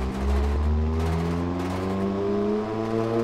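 Simulated engine running during a test in the video game Automation, with the compression raised too high: a steady, loud droning hum with strong low harmonics that holds throughout, rising slightly in pitch, with no talk.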